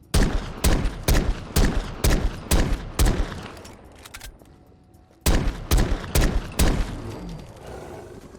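A .50 GS Desert Eagle pistol in Fallout 4 fires a rapid run of loud, booming shots at a Deathclaw, then pauses briefly with a fading echo, then fires another quick burst of shots.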